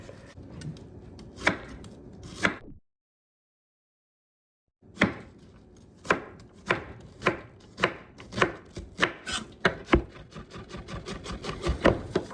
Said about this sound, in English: chop up this damn onion right here